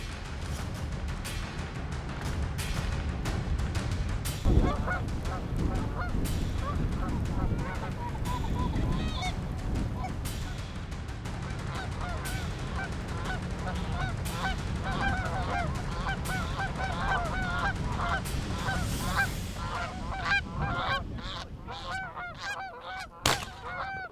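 A flock of geese honks repeatedly and loudly, many overlapping calls over a steady wind-like background, growing busier toward the end.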